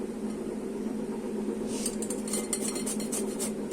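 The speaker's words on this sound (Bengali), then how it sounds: "আমি এই বড় গ্রেটারটা দিয়ে দেখুন আমি গ্রেট করে নিচ্ছি।" A large hand grater shreds a bottle gourd for kofta curry, with steady rhythmic scraping strokes starting partway through over a constant background hum.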